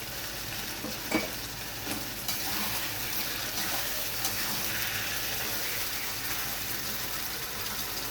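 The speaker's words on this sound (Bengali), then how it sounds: "পেস্ট করে রাখা পেঁয়াজ আদা আর জিরে একসাথে এবার আমি দিয়ে দেব একটা ছোট টমেটো পেস্ট" Tomato paste fries with a paste of onion, ginger and cumin, giving a loud, continuous sizzle and crackle broken by occasional scrapes and knocks of stirring.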